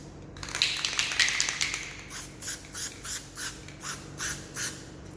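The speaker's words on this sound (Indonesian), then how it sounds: "Kemudian WCP kita semprotkan." A can of white contrast paint for magnetic particle testing sprays onto a metal surface: first a longer hissing burst, then about seven short, evenly spaced spurts, close and alone.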